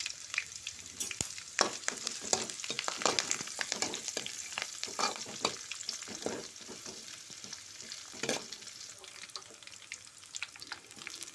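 Garlic, dried red chillies and curry leaves sizzle and crackle steadily in hot oil in a kadai, with repeated scraping stirs and sharp spatters throughout, close and fairly loud.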